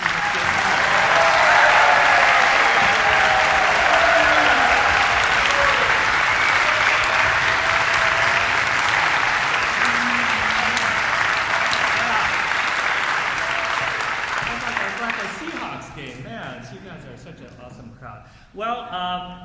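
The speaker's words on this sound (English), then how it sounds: "can we please have a round of applause for all the musicians?" Sustained audience applause for orchestra musicians in a concert hall, loud and steady for about fifteen seconds before thinning out into scattered claps near the end.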